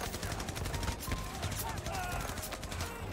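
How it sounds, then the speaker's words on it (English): Battlefield 2042 combat: bursts of rapid gunfire and tank cannon shots mix with mechanical rumble, forming a dense, continuous battle din at moderate volume. "Where are all these tanks shooting at?"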